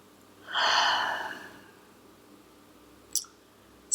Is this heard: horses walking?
no